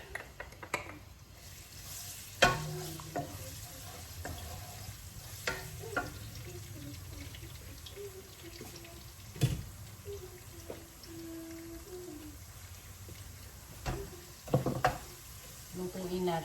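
Garlic sizzling in oil in a pan for squid adobo, a quiet steady sizzle with occasional clinks and stirring knocks, while a person talks over it intermittently.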